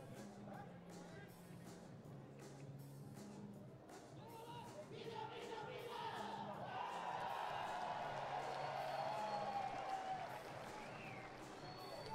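Stadium crowd at a Rio 2016 Paralympic five-a-side football match between Spain and China, a steady murmur of many spectators that swells into louder cheering and applause midway and stays raised to the end.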